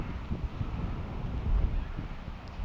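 Wind buffets an exposed microphone high above Hiroshima as a snowstorm blows through, a continuous low rumbling roar with uneven gusts and no talk.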